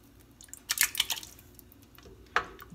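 Canned Italian tomatoes stirred into a pasta sauce, wet squishing and sloshing with soft clicks of a spoon in short bursts, close and moderately loud, with no talking.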